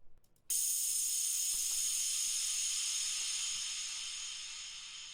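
A cymbal sample with its hard attack trimmed from the start, sitting in an electronic production: a sudden bright, hissy wash that swells in at once and slowly decays over several seconds, alone.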